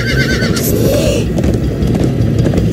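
A video game horse whinnies loudly up close while hooves clatter in a quick galloping rhythm, with no talking.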